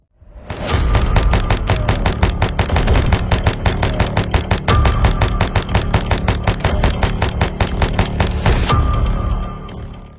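Rapid, loud gunfire from a VR zombie shooter video game, a steady run of closely spaced shots lasting about ten seconds before tapering off at the end, with no talk.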